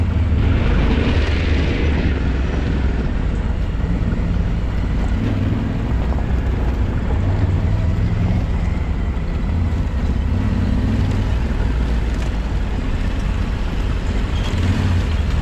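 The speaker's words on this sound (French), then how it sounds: "il roule dans l'eau, juste pour salir sa moto" A motorcycle rumbles continuously through water on a mountain road, the low engine roar loud and steady with splashing and wind noise throughout.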